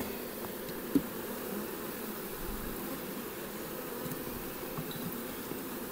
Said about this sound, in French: l'essaim va rester sur place